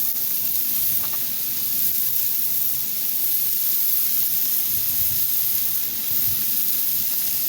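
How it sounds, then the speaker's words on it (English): A steady broadband sizzle of steak searing in a hot pan, continuous and close, with a few faint low thumps partway through. "Hopefully all you hear that sizzling of the steak."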